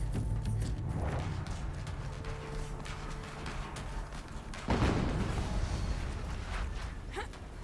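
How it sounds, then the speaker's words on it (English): Explosion in Horizon Zero Dawn Remastered: a single dull boom bursts out midway through a constant rumbling game soundscape, fairly faint overall. "Another explosion."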